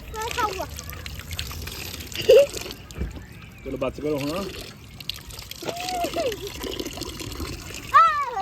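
Water trickling and splashing steadily in the background as hands are washed, while children and adults talk over it.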